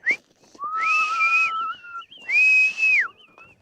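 Two long, clear whistled notes, each sliding up and holding before dropping off, with a short gap between them; no talking.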